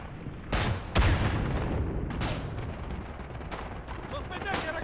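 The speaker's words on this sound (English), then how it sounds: "Strafing run seems to be very effective." Gunfire from a strafing run in the World War I shooter Isonzo: a few sharp bursts and booms over a rumbling battlefield, with voices talking faintly underneath.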